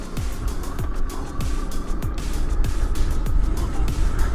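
A 1500W moped-style e-bike ridden under throttle with a battery about three-quarters charged makes a continuous motor whine with repeated rising pitch sweeps, heard close over steady road and wind rumble.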